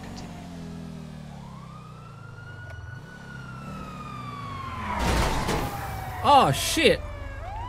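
Police sirens wail behind a car during a motorway pursuit in the video game GTA V, a rising, sweeping electronic tone over engine rumble, with sharper bursts near the end and a voice briefly exclaiming.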